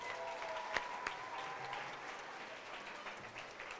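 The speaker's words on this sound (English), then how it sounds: "Let's give them a big round of applause." Quiet, slightly distant applause from an audience at an elementary school 25th anniversary event, a continuous patter of clapping with a few sharper claps standing out.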